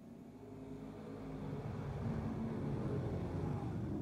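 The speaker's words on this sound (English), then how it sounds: "Pounds the throttle off turn number four" A Limited Sportsman race car charges off the final turn of a speedway, its engine roar swelling from moderate to loud and then holding as a dense, continuous drone.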